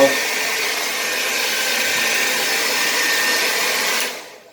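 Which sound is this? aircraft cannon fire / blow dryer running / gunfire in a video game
blow dryer running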